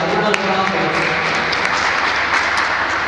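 An audience at a cancer awareness event in Abuja gives continuous applause, a close, even clatter of many hands lasting the whole stretch.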